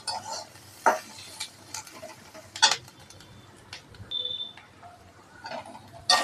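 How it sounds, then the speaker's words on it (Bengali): Capsicum, beetroot, carrot, chilli and onion stirred in a kadai, with intermittent spatula scrapes and clinks against the metal pan over a faint sizzle, close and sparse with short gaps. "আর এইখানটায় আমি কড়াইতে নাড়ানাড়ি করছি, সেটা হলো ক্যাপসিকাম, বিট, গাজর, তার সাথে লঙ্কা আর পেঁয়াজ।"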